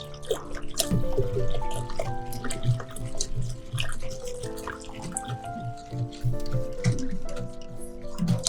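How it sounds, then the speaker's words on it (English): Milk pours steadily into a saucepan up close, with dripping and light splashing throughout and no one speaking. "pour milk into the saucepan."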